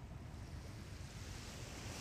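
Surf rolls in steadily at Hat Saeng Chan beach in Rayong, Thailand, a continuous, broad wash of breaking waves mixed with wind rumble against the microphone, with no voices.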